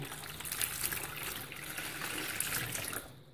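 About 600 ml of water pours for Italian pizza dough, a soft continuous splashing gush close by that lasts around three seconds before cutting off.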